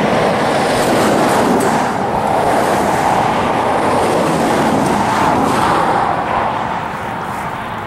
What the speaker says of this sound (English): Traffic has increased for some reason.